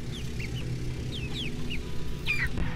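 Chickens in a backyard chicken run cluck and squawk in short rising calls, several birds scattered at moderate distance over a low rumbling background, with a louder squawk near the end and no talking.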